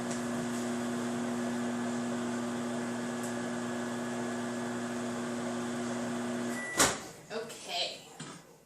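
A microwave oven hums steadily for several seconds while peanut butter cups melt inside, then it cuts off, followed by clicks and a door opening and closing.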